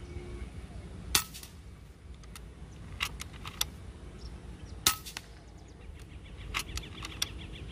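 A suppressed .22 caliber air rifle fires sharp, faint cracks, with two clearer shots and several smaller clicks and taps scattered over quiet outdoor background.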